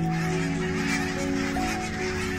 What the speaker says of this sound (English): you can expect to see large flocks of birds, such as ducks or geese,